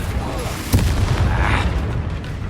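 Spell blasts from the video game Hogwarts Legacy land as a sharp crack followed by a rumbling, booming burst that rolls on and fades, loud and close.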